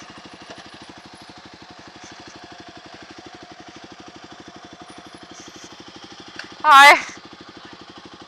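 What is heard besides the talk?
scooter engines idling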